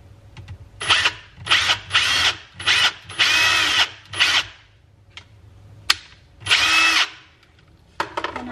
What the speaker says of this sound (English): I'm gonna start right here by drilling a pilot hole.